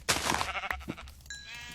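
Sheep bleat in the Minecraft video game, Java edition 1.8.1, with a few close, fairly loud calls in quick succession over a low game hum and brief clicking effects.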